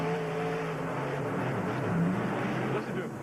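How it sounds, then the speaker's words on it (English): A Ford monster truck with a T-Max engine revs at a freestyle show in Houston, Texas, a loud continuous engine roar with throttle swells that carries through the arena. "Listen to him work that throttle and the power of that T-Max engine."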